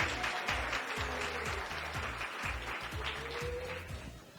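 Crowd applause at an award ceremony rises as a continuous hiss of many hands, mixed under a steady thumping music beat that runs the whole way.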